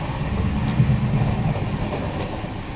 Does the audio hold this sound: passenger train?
yes